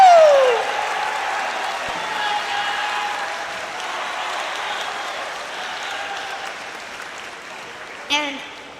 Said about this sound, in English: so we can applaud you.